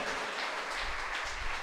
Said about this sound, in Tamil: கைதட்டுங்க, கைதட்டுங்க.